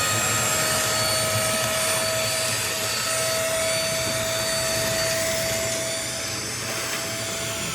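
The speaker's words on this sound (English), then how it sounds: "we're gonna use it to vacuum over here" A DEWALT DXV04A ash vacuum cleaner runs steadily and loudly throughout, with a constant broadband roar and a thin whine riding on top.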